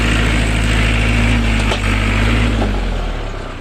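A 2018 Iseki NT554 tractor runs with its rear PTO spinning, giving a close, steady, low engine rumble that eases slightly toward the end, with no voices.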